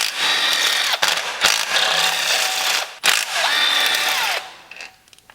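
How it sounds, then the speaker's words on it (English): Power drill or impact driver spinning out the perimeter bolts of an aluminum oil pan on a Chrysler 3.2/3.6 Pentastar engine, several loud sustained whirring bursts separated by brief pauses, close up with no talk. "And now we can continue with taking the bolts off around the outside."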